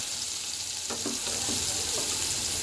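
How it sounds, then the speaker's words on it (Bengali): Onion, a dried chili and a whole bay leaf fry in hot oil, giving a dense, even sizzle close by with a few soft stirring knocks. "আলু ভাজা তেলের মধ্যে দিয়ে দেব একটা শুকনো মরিচ আর একটা দিয়ে দেব গোটা তেজপাতা দিয়ে দেব পেঁয়াজ"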